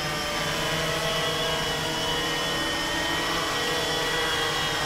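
The rotors of a DJI Phantom 2 drone whir in flight, a steady, high-pitched buzzing drone that stays loud and close, with no voices.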